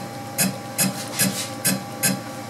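CNC router jogging its Z axis down in steps, five evenly spaced short motor pulses with a quiet hum between them.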